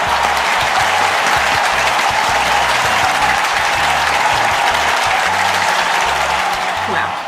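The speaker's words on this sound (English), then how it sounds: "I think that deserves an applause" A dense, steady round of applause runs at an even level for the whole stretch, with no voices on top.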